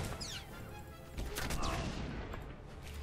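Sweeping gunfire in the Star Wars: The Old Republic video game, a burst of crashing shots that swells after the first second and keeps rumbling as a dense, continuous volley to the end.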